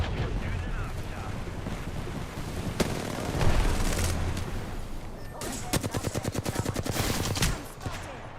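Video game gunfire in a squad shooter: scattered loud single shots followed by a rapid automatic burst of evenly spaced rounds near the end, over a busy background of game noise.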